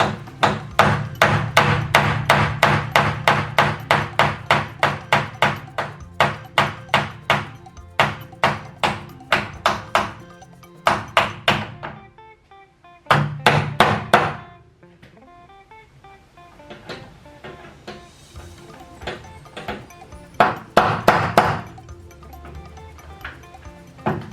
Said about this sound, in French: Il n'a pas pu avec le gros marteau.